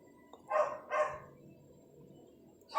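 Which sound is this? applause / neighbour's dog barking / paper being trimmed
neighbour's dog barking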